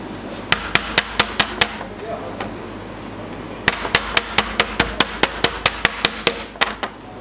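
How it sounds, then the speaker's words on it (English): A chocker hammer beats a fishing trace for a double-hook rig in a run of sharp metallic taps, first six quick strikes, then a pause, then about fifteen more in fast, even rhythm, close and loud. "I'm just going to beat it with a chocker hammer again."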